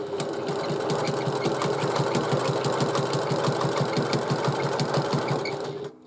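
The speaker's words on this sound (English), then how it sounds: "I'm just going to top stitch to keep the seam all nice and tidy underneath" Sewing machine running steadily, top stitching a seam on a bag lining, its rapid even needle clatter continuing close and loud for several seconds before stopping at the end.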